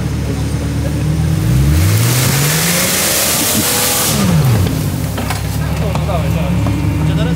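An off-road car's engine revs hard during an off-road expedition cup event, with repeated close, rising and falling bursts of engine roar over a steady rumble.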